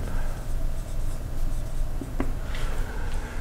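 Pen or marker writing out a physics formula on a surface, soft scratchy strokes with a brief sharper tap near the end over a low steady background hum.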